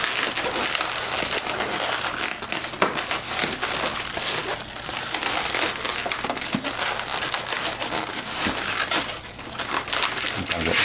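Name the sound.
latex 160 balloon pulled through fold twists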